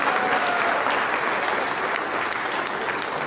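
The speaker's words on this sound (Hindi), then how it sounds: "इसके लिए कम से कम एक बार तालियां बजा दी," Steady, dense applause from an audience at an All India Mushaira poetry gathering in KBN Auditorium, Gulbarga, sustained at an even, loud level without a break for the full span.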